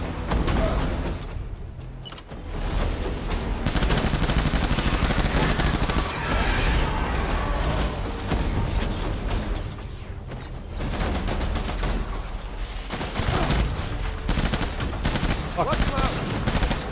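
In the game Death Stranding, heavy gunfire rattles almost continuously in dense, overlapping bursts. Brief lulls break the volleys as the shooting swells back up, with mechanical clatter mixed in.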